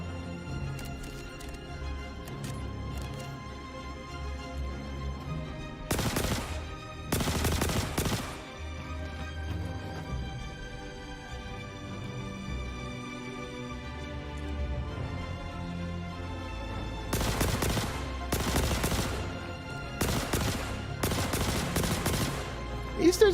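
Video game gunfire in a cave level, with dense bursts of rapid automatic shots in several clusters against steady background music, loud and punchy, with long quieter gaps between the volleys.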